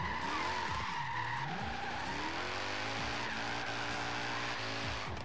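A BMW E46 wide-body drift build with an LSX engine drifts in Forza Horizon 3, its tires screeching steadily while the engine revs rise and fall in sweeping arcs, loud and close, with no talk.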